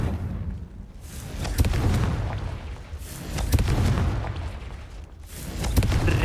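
Confringo explosive spell cast in Hogwarts Legacy, a series of deep rumbling booms and blasts rolling one after another, loud and continuous with no talking.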